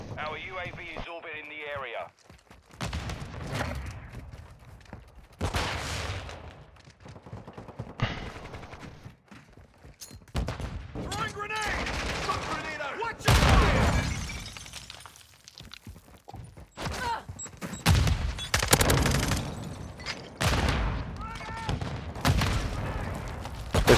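Chaotic bursts of gunfire and explosions in a video game, loud and frequent, with people talking over the action throughout.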